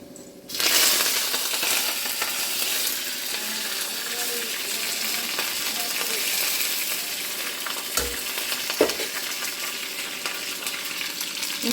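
Steady loud sizzling of curry leaves in hot tempering oil starts abruptly and hisses on continuously, with a couple of faint clinks partway through.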